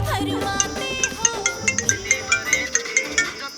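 A phone ringtone playing a bright repeating melody of regular chiming notes, fairly loud and close with no talking over it.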